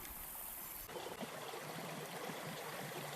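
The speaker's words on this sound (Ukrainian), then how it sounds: "Внизу яру тече річечка з чистою прозорою водою." A small clear stream flows at the bottom of a ravine, a steady soft babbling trickle heard nearby and continuous, with a brief handling shift early on.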